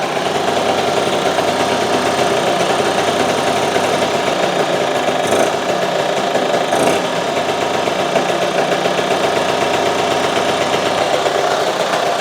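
A barn-find Lambretta scooter engine, stored for 38 years, ticks over steadily at idle with a continuous mid-pitched putter, close and loud throughout, with no talk.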